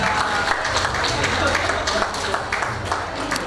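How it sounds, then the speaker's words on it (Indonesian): Audience applause at an official opening ceremony, a steady dense wash of many hands clapping that runs throughout at moderate loudness, with faint voices underneath. "Okay, give applause. Kita berikan tepuk tangan Bapak."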